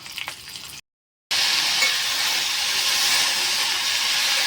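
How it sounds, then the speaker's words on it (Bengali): Coriander, cumin, panch phoron and chilli frying in oil, a dense steady hiss that drops out briefly and then returns louder and continuous, close and without voices. "কিছু ধনে জিরে পাঁচফোড়ন দিয়ে দিলাম তারপর লঙ্কাটাও দিয়ে নিচ্ছি তারপর আমরা দিয়ে ভেজে নিই"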